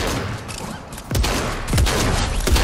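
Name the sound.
harpoon gun firing in Fortnite video game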